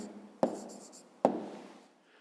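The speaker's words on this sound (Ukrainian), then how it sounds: "Пишемо відповідь." Pen or chalk writing an answer to a fifth-grade rectangle perimeter problem, two sharp taps each followed by a short scratchy stroke, close and quiet.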